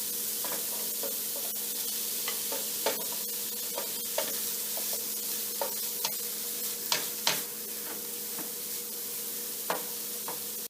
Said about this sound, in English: we've let the squash saute for about 5 minutes, just stirring it periodically